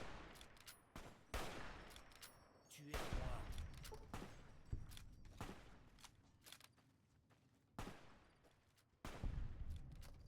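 Gunfire from Boone in the game Fallout New Vegas, a string of sharp broadband shots spaced irregularly over about ten seconds, with bursts near the start, middle and end, loud and close without speech.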